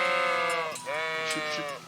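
Sheep in the video game Kingdom Come bleat twice in close succession, loud, wavering calls heard alone.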